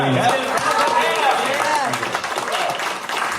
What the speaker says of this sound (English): Well, I'm glad you're clapping